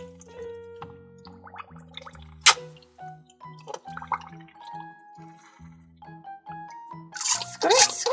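Water rinses a Paw Patrol toy in a bathtub, with close drips and trickles over a tuneful tonal background and a louder splash near the end.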